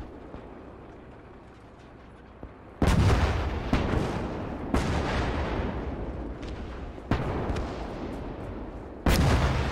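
Artillery fire in the World War II game Gates of Hell, heavy booming blasts landing about every two seconds, each with a long rumbling tail under a constant battlefield din.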